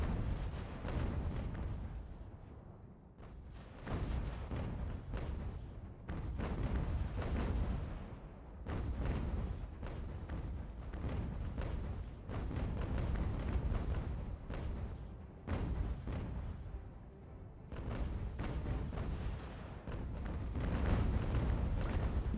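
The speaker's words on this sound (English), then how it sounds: "Could really do with telling my cannons to stop firing" Cannons boom over and over in a video game battle set in the American Revolution, heavy overlapping blasts rolling almost without pause and fairly loud throughout.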